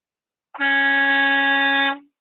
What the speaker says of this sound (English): hit those air horns for me real quick